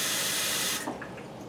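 Water runs steadily from a tap into a heavy saucepan to measure water for cooking rice, then cuts off, leaving faint drips and trickles.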